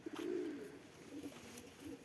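A pigeon at a loft gives a low, soft cooing call, one drawn-out coo followed by quieter throaty murmurs, faint against a hushed background, with no voices.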